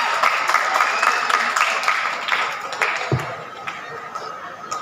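An audience at a Betawi cultural festival's Abang None contest applauds as a contestant is invited to introduce themself, a busy spread of clapping that gradually thins out, with chatter and a few laughs underneath.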